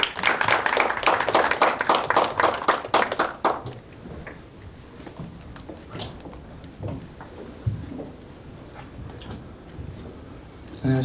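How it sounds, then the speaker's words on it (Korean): An audience applauds to welcome a presenter at a Korean startup showcase event: dense, full clapping fills the room for about three and a half seconds, then thins to scattered claps and quieter room noise. "박수로 모셔보겠습니다."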